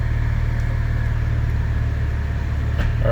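A Nissan 370Z with its exhaust switched from dual to single runs on a dyno with a steady, low idle hum and no revving.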